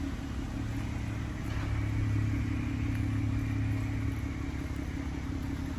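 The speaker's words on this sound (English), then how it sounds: "This vehicle is currently running, very quiet, smooth sounding engine." A 2016 Dodge Grand Caravan SXT wheelchair-accessible conversion van idles with a quiet, smooth, steady low engine hum and no speech.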